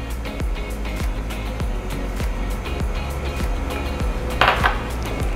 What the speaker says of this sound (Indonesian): Aduk secara manual dan merata.